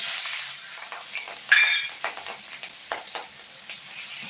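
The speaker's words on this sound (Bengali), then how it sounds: "কড়াইটা ভালো করে ভেজে নেবো পেঁয়াজগুলো" Onions sizzle and crackle steadily in oil in a pan, with a few brief stirring scrapes partway through.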